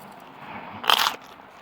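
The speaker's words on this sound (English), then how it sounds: "And I'm chewing right into a burnt bit." A close, sharp crunch as teeth bite into burnt, crispy pizza cooked on a barbecue, one short brittle burst over a quiet background.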